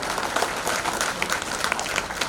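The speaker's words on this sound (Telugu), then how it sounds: "నారాయణ విద్యా సంస్థలు నారాయణ సార్ గారికి, శైల్య మేడం గారికి కాట్వా నుంచి అభినందనలు ఒకసారి చప్పట్ల ద్వారా." Audience clapping to congratulate honorees at a Kapu Teachers Welfare Association meeting, a steady dense patter of many hands held at moderate level for the whole stretch.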